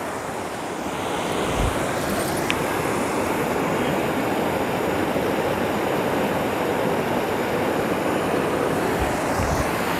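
A rocky mountain stream at Hòn Bà in Khánh Hòa rushes in a loud, constant broadband roar, close to the microphone, with a few low thumps and no talking.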